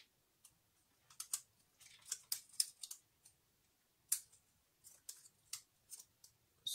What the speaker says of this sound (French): Je vais découper un tout petit bout.